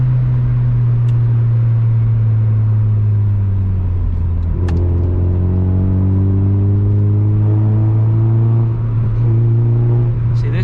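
A Mazda MX-5 NB roadster drives along a narrow UK country road, its engine a steady, loud droning hum that dips and climbs again through a gear change before settling back into a sustained cruise.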